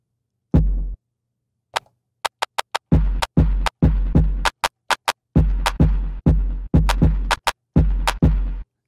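A produced beat plays with a gate on the clap reverb, giving chopped percussive hits: deep kick thumps and sharp gated clap bursts in a choppy, stop-start rhythm with silent gaps between.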